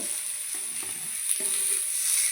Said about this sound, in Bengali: দেখুন এগুলো আমি ফেলে দিব তেলে।